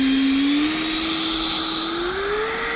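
An RC F-18 model jet taxiing: a loud, steady high-pitched turbine whine that rises slowly in pitch, close and continuous.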